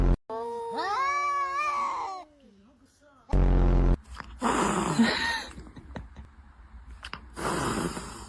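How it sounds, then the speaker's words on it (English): An angry cat gives a long, drawn-out, rising and falling yowl up close, followed by a sharp hiss and some rustling, with a person talking briefly afterward. "What a funny cat."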